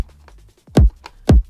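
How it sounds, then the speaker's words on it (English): A synthesized low-end kick drum layer from a hip hop sample plays in isolation: two heavy, booming sub hits about half a second apart, loud and close, with faint softer ticks between them. "So the low end on its own sounds like this"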